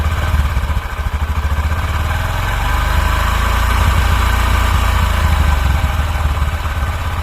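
Honda SP 125 motorcycle engine idling up close, a loud, steady, rapid mechanical putter with faint clatter throughout, no voices.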